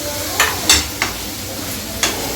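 Chopped chayote sautéing in a pan for a home-style chutney: a steady soft sizzle broken by a few sharp spatula scrapes and taps at uneven intervals, close by.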